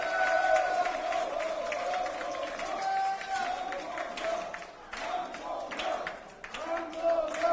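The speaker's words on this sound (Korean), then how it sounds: "큰 박수로 환영해 주십시오." A crowd applauds to welcome the party leader at a People Power Party Daegu–Gyeongbuk joint vision rally, steady clapping and cheering in a large hall with a tonal hum throughout and an announcer's voice over it.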